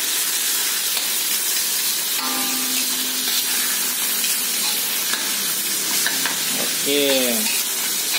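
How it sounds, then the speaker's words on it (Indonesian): Shallots and meat stir-frying in a pan for fried rice vermicelli, a steady close sizzle and hiss with light scraping, a brief spoken word near the start. "Ini ditumis bawangnya bersama daging."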